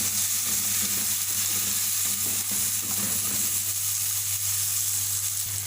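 Spice powders, including garam masala and black pepper, are mixed and fried in a pan for chicken seekh kebab biryani, giving a loud, continuous close sizzle with a constant low hum and soft stirring scrapes.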